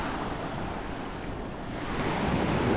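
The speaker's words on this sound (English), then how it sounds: "what we're hearing are crashing waves in this little bay" Waves crash steadily in a small bay at Playa Sucia, Puerto Rico: a continuous close roar of surf, swelling slightly louder toward the end, with wind buffeting and no voices.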